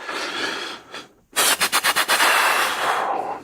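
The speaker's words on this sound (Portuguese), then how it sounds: "Novamente, mais um tiro é disparado." Gunfire erupts near a police officer, a loud rapid burst of about six shots in quick succession after a brief silence, sharp and close, set against rushing noise like wind or movement.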